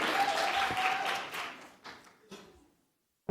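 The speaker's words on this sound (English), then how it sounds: "let's give Ali Habib a round of applause as he comes to the stage" An audience at a health conference claps as a speaker comes to the stage, a brief burst of applause that fades within two seconds into a few isolated claps, then a pause and one sharp sound at the end.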